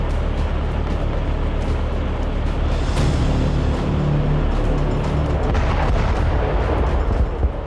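Artillery and gunfire in the Russia-Ukraine war, heard as a continuous loud, dense rumble of battlefield noise with distant booms blended together, steady throughout without pauses.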